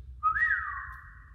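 A single person whistles one rising then sustained note, imitating Santa whistling to his reindeer team during a Christmas story time; clear and close in a quiet room, lasting about a second.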